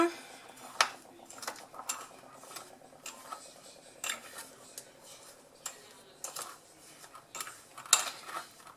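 Homemade body scrub mixed in a bowl, with a utensil scraping and clinking against the bowl in repeated irregular strokes, fairly close and quiet, with no one talking.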